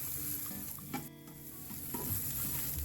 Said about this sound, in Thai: เราก็จะใส่น้ำมันพืชลงไปเล็กน้อยนะครับ แล้วใส่พริกกระเทียมพริกไทยนะครับ ที่เราตำไว้เมื่อสักครู่นี้นะครับ ลงไปผัดให้เหลืองหอมเลยนะครับ